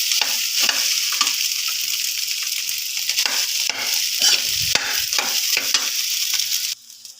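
Fried rice is stir-fried in a pan, a loud close sizzle broken by repeated scraping and tossing strokes at an uneven rhythm, then cut off abruptly near the end.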